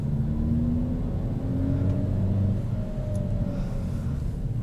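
Steady low engine drone of a 2021 Kia Forte with a manual transmission pulling away from a stop as gas is added, continuous and fairly loud from inside the car, with a slowly rising whine.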